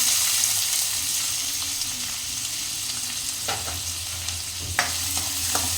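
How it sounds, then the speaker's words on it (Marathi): Chopped onion sizzles in hot oil with mustard seeds and cumin in a pan while being stirred, a steady frying hiss with a few sharp scraping clicks of the spoon, close and alone. "कांदा छान परतून घ्यायचा आहे गोल्डन ब्राऊन होईपर्यंत आपण परतणार आहोत"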